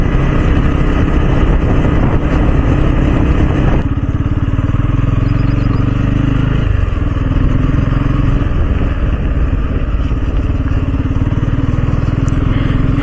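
A motorcycle ridden along a road near the Yellampalli project toward Ramagundam gives a steady, loud engine and wind roar close to the mic, shifting in tone partway through, with no voices.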